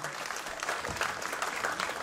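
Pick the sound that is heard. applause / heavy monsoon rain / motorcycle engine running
applause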